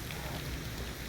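Steady rain patters on the ground and surfaces during an early-morning winter walk, a continuous close wash of drops with no talking.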